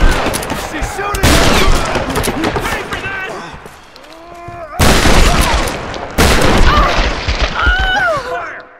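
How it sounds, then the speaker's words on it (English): Loud, dense bursts of gunfire from Tomb Raider (2013) erupt in several heavy volleys, with booming shots and rattling automatic fire, while game characters shout over the din. "She's shooting!"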